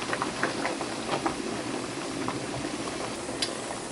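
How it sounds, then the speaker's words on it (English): A pot of water at a steady rolling boil on the stove, ready for blanching tomatoes, gives a dense, continuous bubbling hiss with small pops and spatters throughout, fairly close and alone. "Then I have my pot of boiling water."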